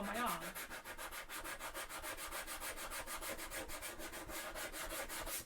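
Sanding a long foam cosplay armour piece for a Warhammer 40k Sisters of Battle costume, a rapid, even back-and-forth rasp of steady strokes, close and quiet with no voices.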